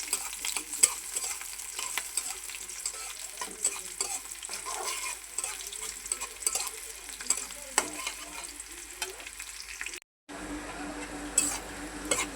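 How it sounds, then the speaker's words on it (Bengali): Onion and green chilies frying in hot oil for a leafy greens dish: a steady close sizzle with frequent light stirring scrapes, broken by a brief pause near the end. "শাকটার জন্য আমি তেলের মধ্যে পেঁয়াজ আর কাঁচামরিচ দিয়ে দিচ্ছি।"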